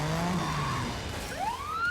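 A police car siren wails in a Switch arcade racing video game, rising and falling tones sweeping over engine noise, with a second, brighter siren climbing sharply near the end.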